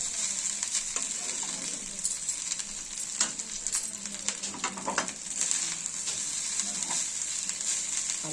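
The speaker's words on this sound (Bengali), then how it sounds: "রাইসটা এইভাবে নেড়ে নেবো" Vegetable fried rice is stirred in a hot pan, with a steady sizzle beneath repeated scraping and tapping of the spatula against the pan, close and moderately loud.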